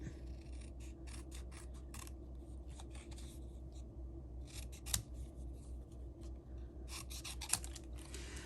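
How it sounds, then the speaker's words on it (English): Paper snips fussy-cutting a stamped paper sentiment for a floral card, a steady train of soft, close snipping and rasping cuts with a couple of sharper clicks, no talking. "take our paper snips and we're going to fussy cut our sentiment"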